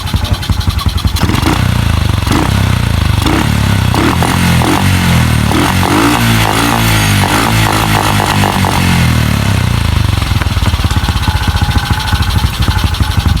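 A motorcycle engine revs repeatedly in short blips, the pitch rising and dropping back each time. The engine sounds loud and close, with no talk over it.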